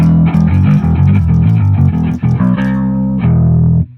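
Electric P-bass bass guitar played through the BIAS FX 2 amp simulator with distortion switched off, a loud, close run of sustained low bass notes with a brief gap near the middle and an abrupt stop at the end.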